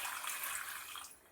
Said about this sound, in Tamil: சாதாரண தண்ணி போட்டு நல்லா அலசி எடுத்துக்கோங்க